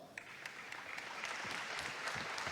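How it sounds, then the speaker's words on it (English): Faint, distant applause rises at a memorial tribute gathering, a soft, continuous patter of clapping that swells slightly over a couple of seconds. "you can applaud"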